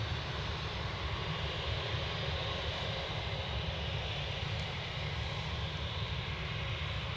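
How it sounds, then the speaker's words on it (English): A Jet2 Airbus A321neo departs Manchester Airport for Paphos, its engines giving a faint, distant, steady roar that holds evenly for the whole stretch with no voices. "one of Jet2's new A321 Neos off to Paphos, flight LS 1029"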